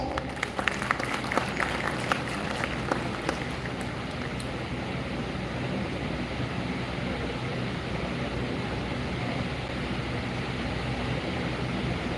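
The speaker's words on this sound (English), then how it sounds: "Please welcome them with a round of applause." An audience applauds at the inauguration ceremony of a law festival, dense steady clapping from a crowd that holds at an even level throughout, with a few sharper claps near the start.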